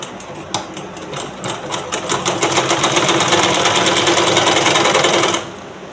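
A sewing machine stitches a half-inch blouse seam, starting with a few slow needle knocks, then speeding into a loud, rapid, even rattle before stopping abruptly.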